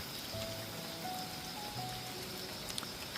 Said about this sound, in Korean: 비가 많이 오는데요